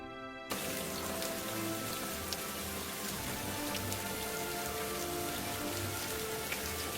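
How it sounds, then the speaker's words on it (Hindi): Steady, dense rain patters continuously on a surface, a constant hiss of drops that starts abruptly and holds without pause. "अरे शंभू देखो, हमारा तालाब कैसे बारिश के पानी से भर गया है।"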